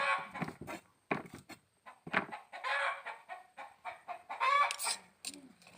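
Startled farm chickens cluck and squawk in a series of close, agitated bursts with brief pauses between them, rising to a loud flurry of excited calls toward the end.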